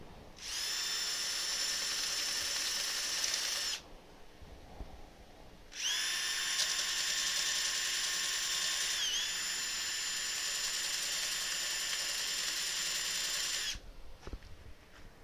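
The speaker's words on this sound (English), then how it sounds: "Slow the lathe down a minute." A wood lathe spins an elm burr with a high, whining tonal hum, running for several seconds, pausing briefly, then running again steadily up close before stopping near the end.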